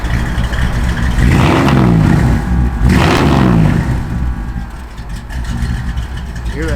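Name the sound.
1963 Chevrolet Impala engine running, cam working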